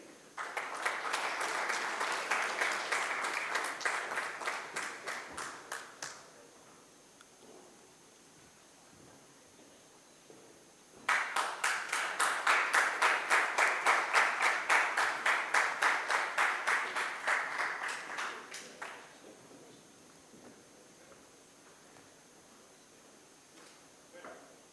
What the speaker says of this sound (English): A big round of applause for all the awardees, please